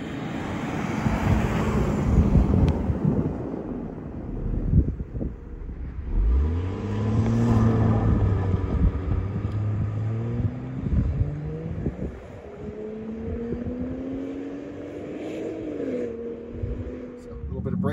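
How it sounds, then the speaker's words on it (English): A Land Rover launches uphill on snow with wheel spin under traction control, its engine climbing in pitch up to the rev limiter before shifting into second, heard under wind buffeting and someone talking. "So you can see a little bit of wheel spin came up there. Traction control spinning away. Right up to the rev limiter into second."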